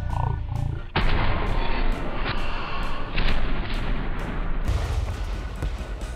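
A tank cannon firing in the War Thunder game lets out a sudden heavy blast with a long rumbling roar, and a second powerful boom follows a few seconds later.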